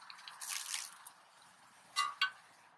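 Liquid is poured out as an offering during a Samhain rite, heard as a soft splashing trickle followed by a couple of brief, distinct drips or clinks, fairly quiet and alone.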